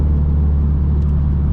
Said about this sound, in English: too old and too bald to be listening to this exhaust drone all day